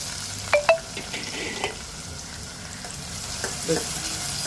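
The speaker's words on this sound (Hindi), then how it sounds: "और उस बाद में हम यहाँ प्याज डाल देंगे इसके अंदर जो कट करके रखी है।" Chopped onions drop into hot oil with spices for a kidney masala, giving a steady broad sizzle with a couple of sharp clinks of a spoon against the pan near the start.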